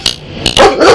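A dog barks in two or three sharp, close bursts, the last one longer and louder, heard during a police traffic stop.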